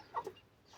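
A rooster kept for sale gives two short, close clucks in quick succession, then falls quiet against faint background hiss.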